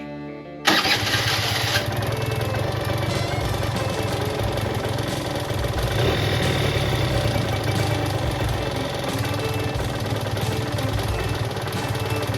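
A barn-find Suzuki LT-80 two-stroke ATV engine starts abruptly after a brief quiet moment, then settles into a loud, steady, buzzing idle that runs close by without letup and with no talking.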